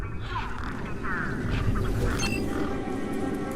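Birds quacking near a truck in the video game Beyond a Steel Sky, a few nasal duck-like calls in quick bursts over a steady low ambient rumble.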